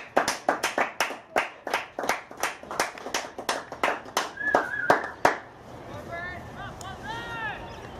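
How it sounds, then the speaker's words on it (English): About a dozen sharp, evenly spaced hand claps ring out close by at an under-17 Australian football match, then fade into quiet background chatter. "Round of applause, fellas."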